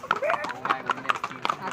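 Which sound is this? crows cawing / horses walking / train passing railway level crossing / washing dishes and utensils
horses walking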